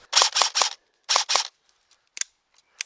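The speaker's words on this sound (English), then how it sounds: "Should probably say I'm running Jeff's .28s in this, so let's just crack on and shoot some stuff" An E&L AKS-74N airsoft rifle running on a 7.4V LiPo battery and firing .28 BBs gives five sharp, snappy shots in two quick groups, followed by a few faint clicks.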